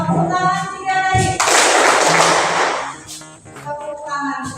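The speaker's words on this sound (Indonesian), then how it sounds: "Kita tepuk tangan 2 kali. Tepuk tangan 3 kali." A standing group in a school coaching session claps hands together, producing a dense burst of applause-like clapping for about a second and a half between stretches of talking voices.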